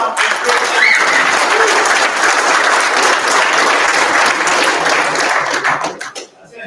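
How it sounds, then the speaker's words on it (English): Sustained applause from an audience at a Masonic lodge installation of officers, a dense, steady round of clapping that holds for several seconds before tapering off at the end. "Let's give him a round of applause."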